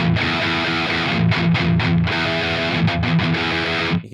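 Heavy distorted electric guitar is picked with palm muting near the bridge, a loud, tight, rhythmic chugging with short choked gaps between bursts and no voices.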